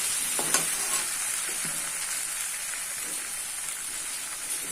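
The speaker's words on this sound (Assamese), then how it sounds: "মিনিটমান ভালকৈ মানে মিক্স কৰি পেলাই 2 মিনিটমান ফ্ৰাই কৰিম।" Chicken curry fries in a pan with a steady, dense sizzle that runs the whole time, close and even, with a few soft utensil taps and no talk.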